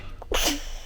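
A single short sneeze, close and fairly loud, over low background hum, with a faint intake of breath just before it.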